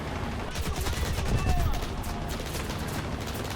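A Typhoon Mk 1B fighter's guns fire at a BF-109 during War Thunder aerial combat, a dense rattling volley that swells and fades over steady loud engine and wind roar.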